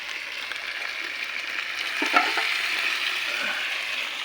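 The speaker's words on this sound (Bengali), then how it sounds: "তো লেগ পিসগুলো আস্তে আস্তে করে আমরা নেড়ে নেব।" Chicken leg pieces frying in a pan and being turned slowly, giving a steady, close sizzle with a few soft scraping stirs and one brief clack partway through.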